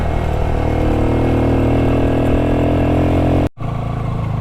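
A motorcycle rides along a mountain road in winter, the engine droning steadily and loud at close range before a brief cut and resuming.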